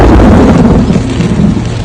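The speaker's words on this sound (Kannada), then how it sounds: "ಇದು ಮಳೆ ಕಾಡಿನ ಮಳೆ. ಮಳೆ ಬಂತು," Heavy rain pours through the rainforest at Agumbe, a loud, dense roar with a deep rumble of thunder running beneath it throughout.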